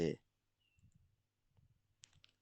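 Computer mouse clicks during work in photogrammetry software, a couple of sharp, close clicks separated by quiet pauses, with soft speech in between.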